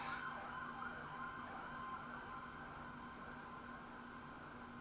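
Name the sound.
fire engine or ambulance siren passing outside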